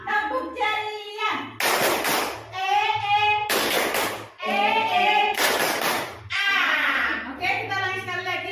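A group of teachers performs the tepuk ceria chant, sung voices alternating with bursts of loud, sharp synchronized clapping in a rhythmic pattern, close and energetic.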